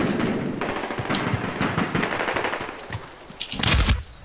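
Rapid automatic gunfire from the Medal of Honor video game rattles on in a dense, loud burst, ending in a heavier blast near the end.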